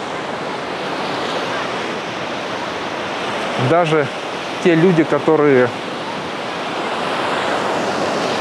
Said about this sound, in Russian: из-за такого ветра, особенно когда еще и песок метет